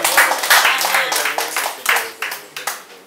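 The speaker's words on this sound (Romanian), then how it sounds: "Să-l aplaudăm oricum" An audience at a ceremony in Reșița applauds, with close, dense clapping in uneven bursts that swell and fade over a few seconds.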